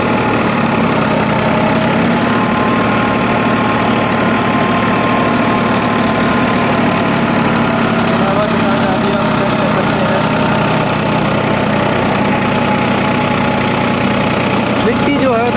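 A Farmtrac 60 tractor engine runs continuously at a steady pace in high-range second gear on sandy soil, a constant close mechanical drone with a knocking throb, with a voice talking over it at times.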